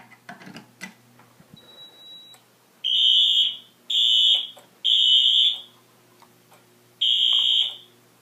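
A fire alarm system goes into alarm after a pre-signal, blaring four loud, piercing electronic horn bursts in a steady on-off pattern, with faint clicking and a thin tone beforehand.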